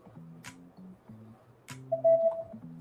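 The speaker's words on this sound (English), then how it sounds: "Why is my phone still going off?" A phone goes off with a string of short electronic notification tones, several quick beeps and chimes in an uneven pattern, fairly quiet and heard without talk.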